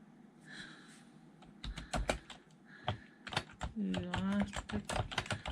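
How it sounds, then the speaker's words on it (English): Rapid clacking of computer keys, irregular bursts of typing close by, with a low humming voice briefly underneath. "I'm gonna hear the clacking of my keyboard here."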